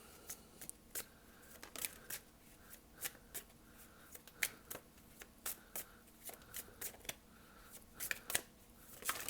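Tarot cards shuffled by hand, close and quiet, in crisp riffling bursts and soft taps recurring every half second or so, with no talking.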